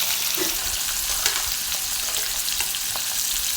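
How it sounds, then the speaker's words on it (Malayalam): Beef pieces fry in hot sunflower oil for a spiced beef mandi, giving a steady, dense sizzle with faint crackles throughout and no voices. "നമുക്ക് ഈ ഇറച്ചിണ്ടല്ലോ കുഴച്ച് വെച്ചാൽ അതൊന്ന് പൊരിച്ചെടുക്കട്ടോ"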